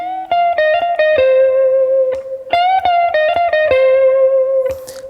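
Sustained electric guitar lead, played as a string of picked notes with slides and bends, clear and alone with a slight distorted edge and reverb.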